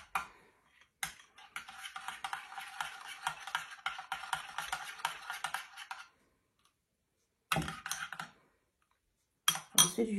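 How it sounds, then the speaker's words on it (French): Crêpe batter tinted with blue food colouring is whisked briskly in a bowl, a steady scraping and clinking run for about five seconds, then two short bursts of stirring after pauses of silence. "Je vais bien mélanger."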